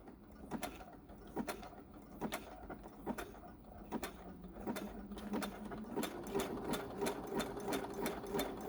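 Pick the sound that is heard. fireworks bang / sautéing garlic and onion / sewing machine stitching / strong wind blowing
sewing machine stitching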